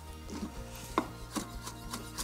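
A sharp knife chops through a rolled bundle of spring onions and parsley on a board, making a few soft, scattered cuts close by in a quiet kitchen.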